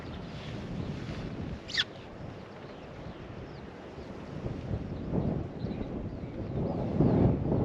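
Wind blowing outdoors at a fishing spot, a steady broadband rush with gusts swelling louder toward the end, with a brief sharp knock near the start and no talking.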